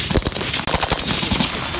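Gunfire at a military reservist shooting training range: rapid, sharp bursts of automatic shots rattle out close and loud in quick succession, with no talk over them.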